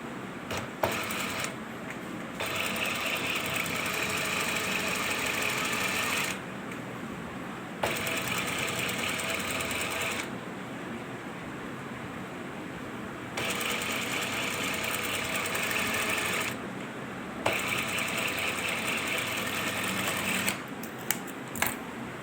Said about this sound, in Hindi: सीधी तरफ से रखने के बाद आपने उस प्रिंट के ऊपर लाइन के ऊपर सिलाई लगा देनी है